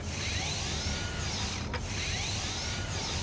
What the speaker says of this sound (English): Note that the minigun's barrels need to spin up before they start firing